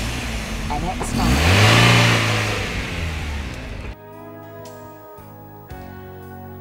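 Mazda MX5 engine revving, climbing and falling in a loud swell under what may be a voice, then cutting away to music.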